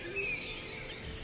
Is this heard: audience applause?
no